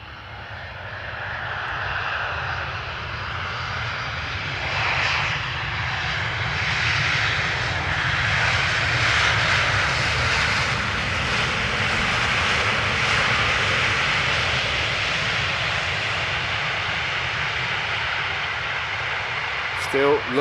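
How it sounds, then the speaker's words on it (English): An Airbus A320neo airliner at Amsterdam Schiphol Airport gives a steady, loud jet-engine roar that swells and holds for about twenty seconds, a broadband rush that rises gradually in the middle before easing slightly. "an A320neo, this flight"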